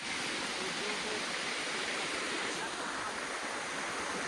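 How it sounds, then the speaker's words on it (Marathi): A small waterfall on the Kas plateau gives a steady, loud, broadband rush of falling water close by, unbroken for the whole stretch with no clear voices. "हे बघा मिनी धबधबा इथं आहे बाई, मिनी धबधबा आहे"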